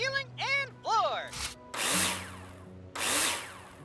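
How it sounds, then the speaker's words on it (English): A power drill in the Builder Simulator video game driving screws to fix metal profiles to a ceiling, two loud whirring bursts following a few brief tool sounds, with no talking. "Now place them in the hologram and screw them in with a drill."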